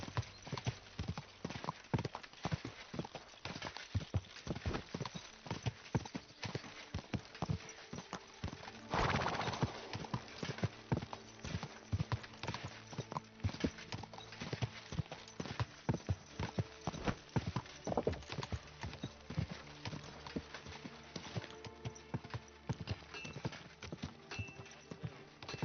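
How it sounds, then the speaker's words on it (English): Horse hooves clip-clop in Kingdom Come: Deliverance II, a steady, brisk rhythm of close hoofbeats running throughout, with faint ambient game sounds beneath and no speech. "My, what a beautiful horse."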